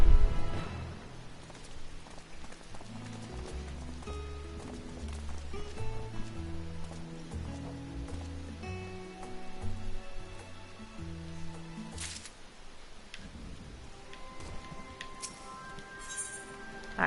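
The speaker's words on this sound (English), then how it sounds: "it suddenly started raining" Rain falling in the Final Fantasy 14 video game, a soft steady patter beneath a looping game music score, faint and continuous with no talking.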